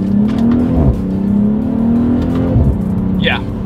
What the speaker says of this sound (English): So let's go ahead and hit the gas here.